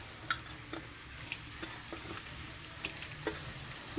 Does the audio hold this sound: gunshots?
no